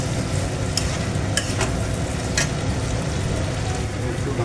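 Chopped tomato, capsicum and onion fry in a pan with a steady, close sizzle, broken by a few sharp scrapes as the vegetables are stirred.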